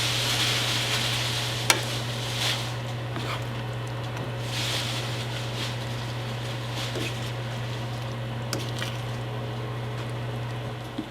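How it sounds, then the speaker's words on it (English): Seafood kare-kare cooking in a pan, with a steady close sizzle of frying under occasional scraping stirs and light clinks throughout, no talking. "So we'll cook this for another 5 minutes"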